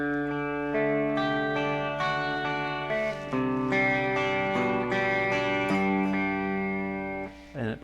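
An electric guitar plays a slow riff with sustained, effects-laden chords ringing out one after another, ending with a brief scratchy strum.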